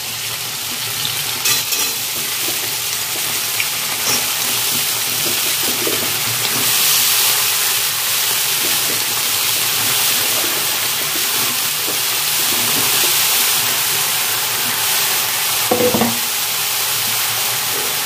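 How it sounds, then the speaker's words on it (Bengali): Chopped green water lily (shapla) stems fry in a pan, a steady dense sizzle running throughout with occasional stirring scrapes and clinks, close and fairly loud, no talking. "শাপলাটা একটু ভেজে নিলাম"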